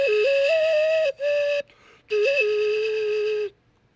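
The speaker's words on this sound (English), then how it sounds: "double whistle." An Aztec clay double whistle sounds two steady, piercing tones together in bright, sustained blasts. The first blast shifts pitch slightly, then a short break is followed by another long note that cuts off abruptly, with no talking.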